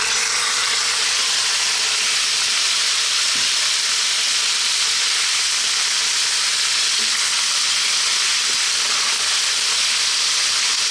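Stewing beef sizzles steadily in a hot curry pot as it is stirred, a loud, continuous close hiss of frying with faint occasional scrapes and no voices.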